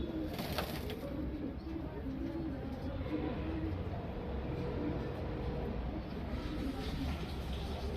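Ice pigeons of an old lucky breed cooing in a loft, a steady low murmur of coos running throughout over a dense background of other birds.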